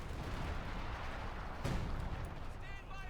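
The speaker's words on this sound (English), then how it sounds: "Pushing forwards past the artillery barrage." An artillery barrage in the real-time strategy game Company of Heroes 2 rumbles as a dense, continuous wash of distant blasts and battle noise. One sharper impact lands partway through.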